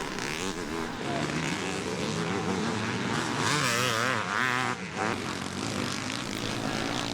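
Motocross motorcycles race past at Farleigh Castle during a veterans' MXDN event, engines droning and rising in pitch as bikes pass, loud and continuous with revving swells throughout.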